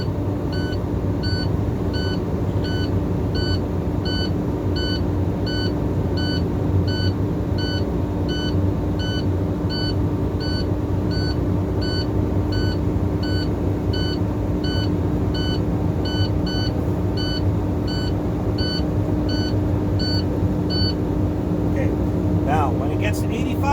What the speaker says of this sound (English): You want to build that pressure up so that low air buzzer and light goes out at 60 or above.